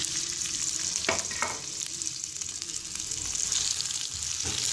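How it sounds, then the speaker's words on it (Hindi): Onions fry in a cup of cooking oil in a kadai over a medium flame, making a constant moderate sizzle with a couple of brief stirring scrapes. "प्याज को मैंने फ्राई कर लिया है।"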